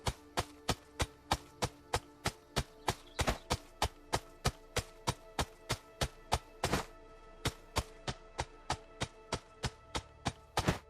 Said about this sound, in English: for the rest of this night, we will chop down trees